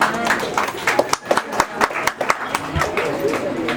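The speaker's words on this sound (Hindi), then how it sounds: "तालियां तो बनती है पंडित जी के लिए ना।" Guests clap for the priest at an engagement ceremony, a loose, uneven patter of close hands with sharp individual claps standing out, mixed with background chatter and voices.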